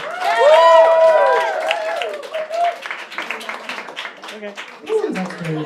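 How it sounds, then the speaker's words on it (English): Audience at a New York cosplay cabaret applauding and cheering, a burst of clapping and whoops that swells then thins out, with a host's voice speaking over the crowd. "Round of applause to all the performers who've already gone up"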